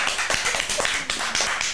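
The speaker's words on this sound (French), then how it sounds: "il arrive sous les applaudissements du public" Audience applause greeting a presenter arriving at a televised contest evening, a dense patter of hand claps, steady and fairly close, with no talk over it.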